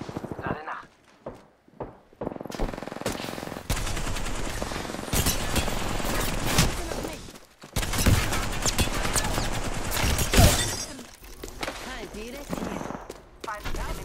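Gunfire in the video game Apex Legends, loud bursts of rapid automatic shots and scattered single cracks across a busy, chaotic mix, with dense battle noise throughout.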